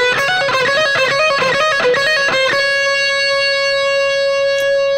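A quick electric guitar lick with rapid picked and hammered notes, ending on one long sustained note that rings out alone.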